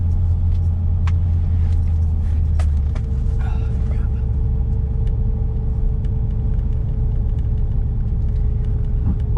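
Supercharged Ford Mustang with a swapped 6R80 automatic at a drag strip, a loud steady engine rumble filling the whole stretch, with a brief sharp burst partway through and faint voices in the background.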